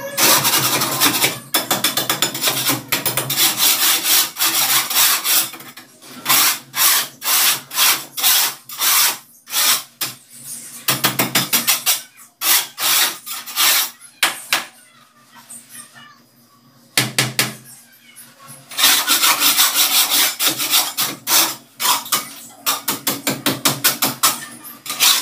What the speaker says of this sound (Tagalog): kuskusin muna natin. So kailangan natin ng spatula para malinis ng kaunti.